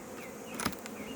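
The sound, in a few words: honeybees buzzing at a hive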